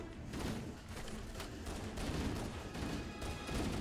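Dense Halo video game gunfire, a steady stream of overlapping shots and bursts that stays loud and busy throughout without a break.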